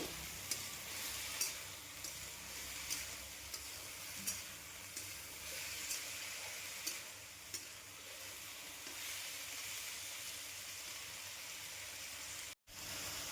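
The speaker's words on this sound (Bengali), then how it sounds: "দিয়ে এটাকে আবার একটু ভালো মতো ভেজে নেব।" Mixed vegetables for a vegetarian navratan dish fry in a pan with salt and turmeric, giving a steady, close sizzle with light scraping strokes throughout.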